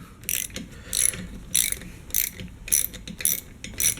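Ratchet wrench clicking in quick bursts while tightening bolts in sequence on a KTM 50 engine top end, about seven loud rhythmic spurts of ratcheting close by, with no talking.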